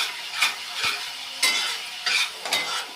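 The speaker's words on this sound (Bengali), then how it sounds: "মশলাটা কষিয়ে নিচ্ছি দেখো" Masala frying in a pan for a potato and paneer curry, with a steady sizzle and a handful of sharp spatula scrapes and clinks against the pan.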